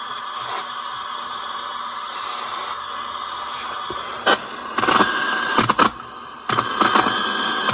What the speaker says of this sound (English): Let's do a real quick tuner spray.